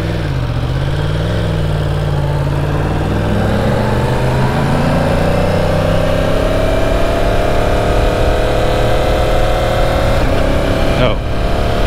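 A 2018 Yamaha R1 motorcycle engine on a test ride pulls through the gears with quick shifts, its note climbing steadily, then a brief break near the end as it shifts under constant wind roar.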